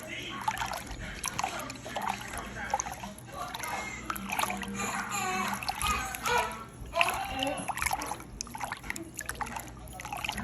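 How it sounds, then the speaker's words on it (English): Hot liquid lemon dish soap with soap base is stirred, giving soft sloshing and splashing with small trickles at close range, while a person speaks over it. "I mix this up first."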